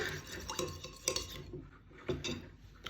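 A spoon clinks and scrapes against a small pot while sushi rice dressing made with 9% vinegar is stirred over low heat, a few sharp taps among soft swirling.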